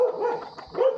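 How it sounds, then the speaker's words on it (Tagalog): A single dog gives a couple of short, close barks with a whimpering edge, loud and alone. "May aso pa."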